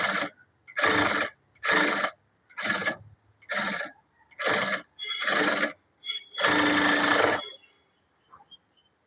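A sewing machine stitches a blouse in eight or so short bursts of a second or less, each separated by brief silences, ending with one longer run and faint clicks.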